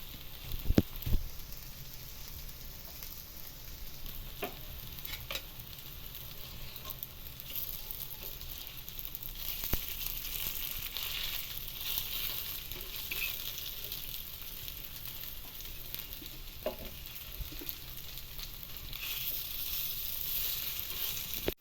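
Tikki made from murmura (puffed rice) and potato fry in oil with a steady, crackling sizzle that holds for the whole stretch, marked by a few sharper pops near the start and no voices.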